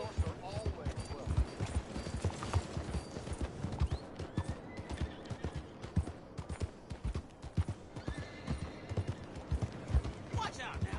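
Horse hooves clip-clopping in Red Dead Redemption 2, a steady walking rhythm of distinct hoof falls on the ground that continues throughout, with a brief whinny at one point.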